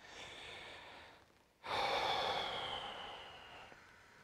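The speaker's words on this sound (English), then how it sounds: "Another deep breath for me." Deep breath during a massage treatment: a slow, close inhale, a short pause, then a long audible exhale, faint and alone.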